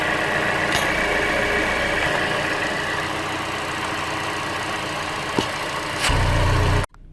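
A Chevy Cruze engine idles steadily up close with a constant mid-low drone, following a PCV valve bypass repair, and briefly rises in pitch just before the sound cuts off.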